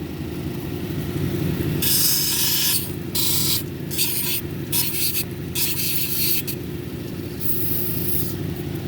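An agate cabochon of Mexican red lace agate being sanded on 220 grit, with repeated bursts of gritty scraping strokes over a steady low motor hum, close and fairly loud, no talk.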